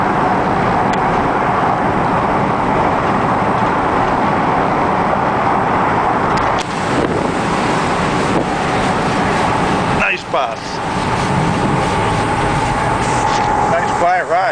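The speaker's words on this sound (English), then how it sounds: "Nice quiet ride for a bus." A yellow mini bus cruising at highway speed, its steady engine and road drone with broadband wind rush running continuously, interrupted by a brief dip, while someone talks over it throughout.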